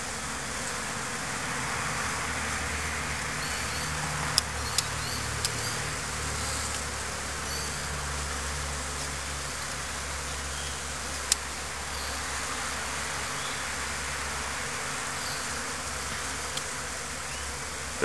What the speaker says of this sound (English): There is a lot of bees going in with pollen